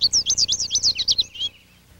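American goldfinch singing alone in a backyard, a rapid run of about a dozen bright, twittering high notes that trail off into a thinner call.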